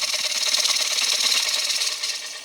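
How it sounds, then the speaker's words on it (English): A 3/8 inch bowl gouge cuts the rim of a wooden bowl blank on a lathe, giving a steady, close, continuous scraping hiss that holds evenly for a couple of seconds and then tapers slightly. "using a 3/8 inch bowl gouge. It takes a little bit smaller bite"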